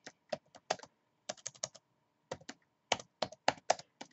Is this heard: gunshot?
no